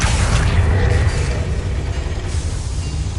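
A Confringo fire spell explodes in Hogwarts Legacy inside a mine, a loud, deep rumbling boom that rolls on and slowly fades over a few seconds.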